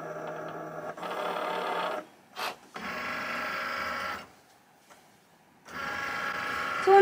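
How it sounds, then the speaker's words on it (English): A craft cutting machine presses a fine debossing tip into card stock, giving a steady mechanical whirring hum in several bursts separated by short pauses, close and fairly loud. "on the screen of the computer now, it's doing the debossing"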